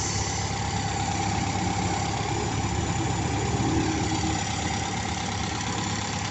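A car engine idles steadily while warming up, reaching about 1,000 RPM, with a constant low hum and rumble, unchanging throughout, with no voices.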